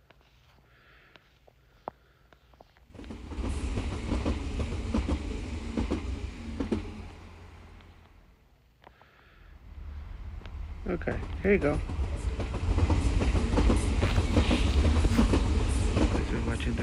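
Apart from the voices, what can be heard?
train crossing a bridge in the video game TrainStation 2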